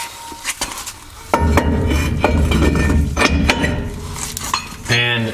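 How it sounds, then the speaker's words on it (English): A 21mm wrench clanks and clinks against metal suspension parts on a 2WD RAM 1500 front end, with several sharp metallic knocks and rattles close by over a busy shop background. "grab our 21mm wrench, and put this on"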